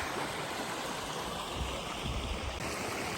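Fast, heavy water rushing through San Ysidro Creek along a hiking trail, a steady broadband roar that holds constant from near by, with no voices.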